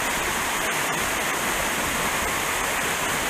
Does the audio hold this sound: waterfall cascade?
yes